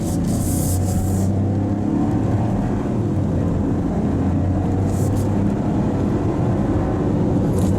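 A 2024 Buick Envista ST SUV picks up speed, its engine and road noise forming a steady low rumble with a brief higher whine near the start and again around five seconds; no one speaks.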